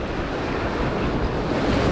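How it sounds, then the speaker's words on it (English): Ocean waves surging and crashing around jetty rocks, a loud, constant churning wash with wind noise on the microphone and no voices. "I gotta watch the waves real quick and just get out of here"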